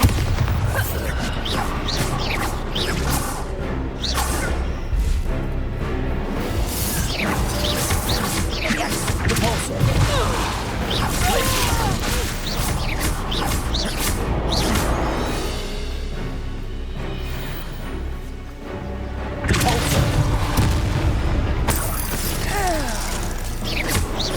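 Bombarda spell blasts in the Hogwarts Legacy video game, loud continuous explosive crashes, rumbling booms and mechanical clanking fill the whole stretch, dense and close, with a brief dip before the din returns.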